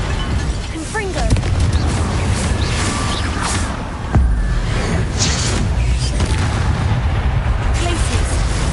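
A Confringo blasting spell explodes in Hogwarts Legacy with a deep, booming burst around the midpoint, set against dense, loud combat noise and voices.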